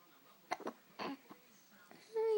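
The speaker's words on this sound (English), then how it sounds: "Why has he got hiccups?" A baby hiccuping in several short, soft bursts, with a voice speaking over them at the end.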